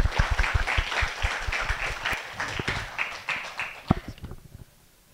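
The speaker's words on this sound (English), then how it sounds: "Please welcome with a big round of applause." Audience applause at an international education partnership event, a burst of dense clapping that thins out over a few seconds and fades to near silence by the end.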